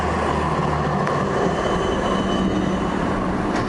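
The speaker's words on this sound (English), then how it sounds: "The famous number 19 tram going past us." Melbourne's number 19 tram passing through Brunswick, a loud steady rumble of wheels on rail with a faint metallic squeal, close by and continuous throughout.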